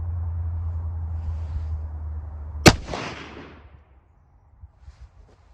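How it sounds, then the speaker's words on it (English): A single sharp, loud crack comes from a 6.8 Creedmoor rifle firing a 133-grain Shock Hammer load without a gas block, rising out of a low hum and trailing into a brief rumbling echo before the air falls quiet. "going to shoot this with my glove on just to make sure that this thing doesn't blow apart on the first shot"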